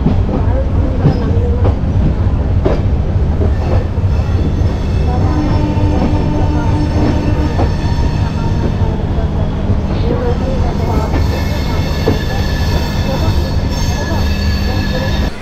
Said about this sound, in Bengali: আমাদের ট্রেন 10 মিনিট লেটে ছেড়ে দিল হাওড়া স্টেশন থেকে রাঁচির উদ্দেশ্যে